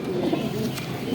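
Pigeons of the deobandi and bajrai breeds coo close by in a soft, continuous low warbling murmur with no pauses.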